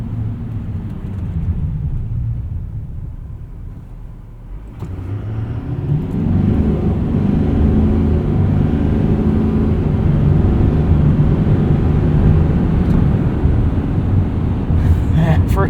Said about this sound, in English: Let's do a quick 0 to 60 here while no one is around us.